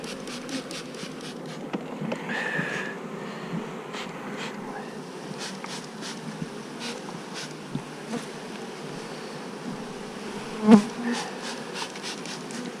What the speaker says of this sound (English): Let's give these bees some spray here.